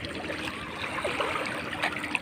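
Steady flowing stream water, a continuous close trickling and gurgling rush that fills the whole stretch with no talking.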